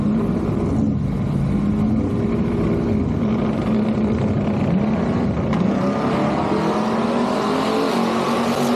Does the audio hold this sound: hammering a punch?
no